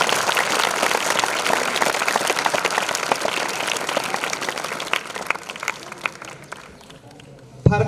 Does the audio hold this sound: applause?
yes